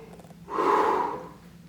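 A trombone player draws one audible breath, a single broad rush of air that swells and fades over about a second, close and clear against a quiet background.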